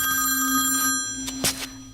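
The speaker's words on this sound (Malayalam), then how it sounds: "എവിടുന്നോ ബെല്ലടിക്കുന്ന ശബ്ദം വരുന്നുണ്ടല്ലോ." A mobile phone rings in a dubbed South Indian action thriller, a steady electronic trill that sounds continuously and fairly loud, with a brief knock or shuffle near the end.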